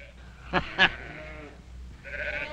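Two short bleats in quick succession from a sheep, followed by a fainter drawn-out bleat, over a low background rumble.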